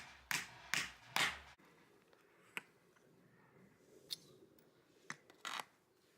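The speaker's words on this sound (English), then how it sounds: "You've got a pair of scissors, nice generous sized pair of scissors." A generously sized pair of household scissors from a tool kit is handled nearby, giving a few sharp snips and clicks early on, then sparse faint taps and clinks.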